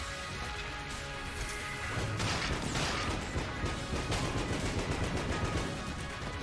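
Rapid bursts of gunfire and crashing impacts from the twin-stick shooter Enter the Gungeon, loud and dense throughout, with clattering hits layered over a steady bed of game music and effects, no talking.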